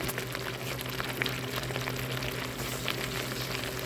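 Onion fries in oil in a pan for poa fish bhuna, making a constant, close bubbling sizzle with a low steady hum beneath it and no pauses.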